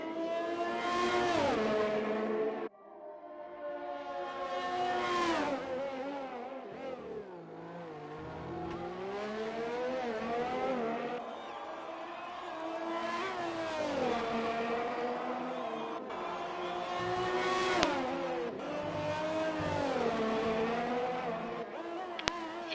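F1 race cars lap Monaco in a racing video game, their engines revving high and sweeping up and down in pitch through gear changes, loud and continuous with cars passing by.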